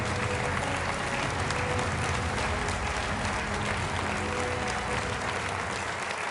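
Steady, dense applause from a large audience fills a Conservative party manifesto launch rally in Britain, loud and continuous throughout with a faint crowd murmur underneath and no talk.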